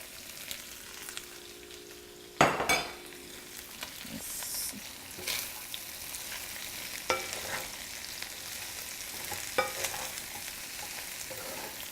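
Peppers and cabbage for a General Tso chicken stir-fry drop into a hot pan, starting with a loud burst of sizzling, then a steady frying hiss with occasional stirring scrapes, close and without talk.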